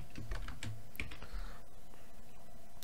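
Quick, uneven keystrokes on a computer keyboard, fairly close and clear, with short bursts of taps and brief pauses between them and no voices.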